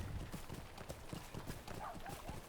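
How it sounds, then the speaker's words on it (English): A horse's hooves clip-clop in a quick, steady gait while riding through bushes in The Lord of the Rings Online, with dense rustling noise throughout and no talking. "It's not good for the horse when you ride through the bushes."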